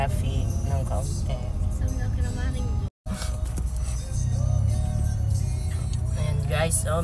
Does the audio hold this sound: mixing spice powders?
no